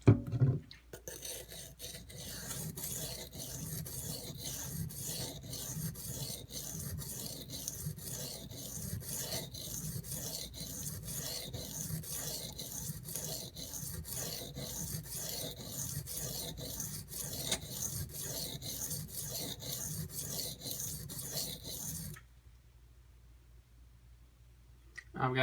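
A knife is drawn back and forth on a Gritomatic silicon carbide benchstone, giving fast, regular rasping strokes that repeat evenly for over twenty seconds before stopping abruptly.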